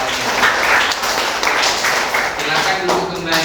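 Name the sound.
applause from class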